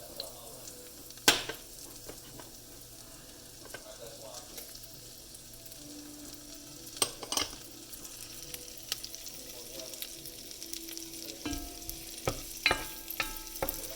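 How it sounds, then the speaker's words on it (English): Onions sautéing in a pan for curry rice, a faint steady sizzle with occasional stirring clatters and utensil knocks. "Alright, let's put my onions. Should hear a little sizzle."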